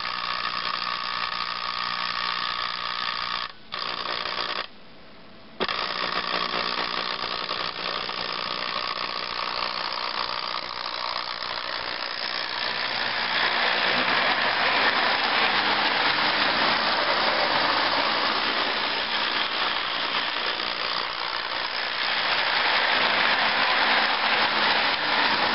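Conventional model train engine powering up as voltage rises, a continuous whirring, grinding motor hum that swells louder and brighter partway through, broken by one brief dropout.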